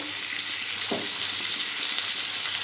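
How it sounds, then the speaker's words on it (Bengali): Cut potatoes fry in leftover fish oil with turmeric and salt: a steady, close hiss and sizzle fills the clip, with one soft stirring knock near the start and no voices. "ভেজে রাখা মাছের তেলের মধ্যে কেটে রাখা আলুগুলো ভেজে নেব"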